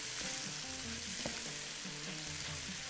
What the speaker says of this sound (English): We keep mixing it.